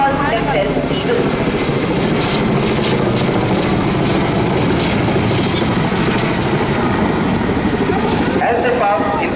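Navy helicopters, including UH-3H anti-submarine types, fly past at a Navy Day rehearsal with a loud, continuous rotor and engine roar that fills the scene, while an announcer's voice carries over it.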